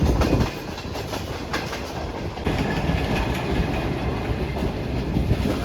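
The Shalimar Express, a Pakistani passenger train running from Lahore to Karachi, rumbles steadily toward the Ravi bridge, heard from on board with a loud continuous roar and rhythmic clickety-clack of wheels on the rails.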